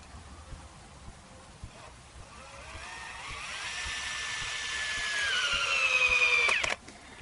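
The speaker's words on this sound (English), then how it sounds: "So just a few more screws to hold it all down." Power drill driving a screw into a wooden rope-fence post, a whirring motor that rises in pitch and loudness over several seconds, then cuts off abruptly.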